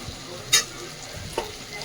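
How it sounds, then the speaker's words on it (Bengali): Fried potatoes are stirred with spices in a hot pan, a low sizzle broken by two sharp scraping clinks of the spatula about a second apart. "এই সময়টা আলুগুলো দিয়ে দেবো, যাতে মশলার সাথে ভালো করে আলুগুলো কষে যায়।"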